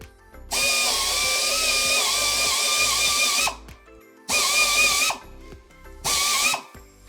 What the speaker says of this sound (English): We are making a hole from both sides. We start from outside.